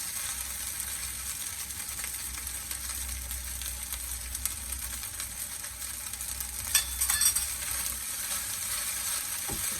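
Broccoli stir-fried over a high flame for corned beef fried rice, giving a steady loud sizzle with brief scraping stirs near the end and no talking.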